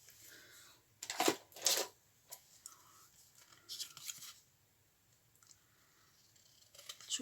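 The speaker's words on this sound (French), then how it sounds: "Peut-être prendre des ciseaux un peu plus grands." Scissors snip through paper while trimming the edges of a glue book, a few sharp close cuts in short bursts separated by quiet pauses, with faint soft handling sounds between them.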